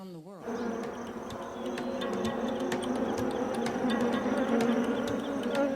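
A dense, steady buzz of many bees swarming close by at a beekeeping site in Provence, with faint clicks and knocks scattered throughout.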